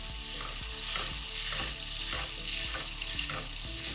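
Steak fries in a pan of butter and oil while being basted, a steady loud sizzle with rhythmic scraping and splashing pulses as hot fat is spooned over it.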